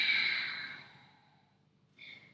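A slow exhale during a vinyasa yoga flow: one soft, long breath that fades out over about a second, then a short, quieter breath at the end.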